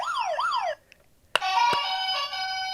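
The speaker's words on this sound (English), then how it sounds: "There's another siren." Siren effect from a podcast sound buzzer: a wailing electronic siren sweep, a brief gap, a sharp click, then a steady bright synthetic alarm tone, loud and close with no talking.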